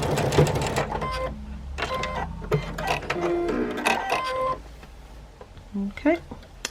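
A sewing machine stitches quilt pieces in short, uneven bursts of close mechanical whirring, with a person talking over and between the runs.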